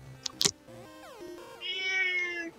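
A cat meows in a long, whiny drawn-out cry, preceded by a couple of brief clicks; fairly close but not loud, with no talking.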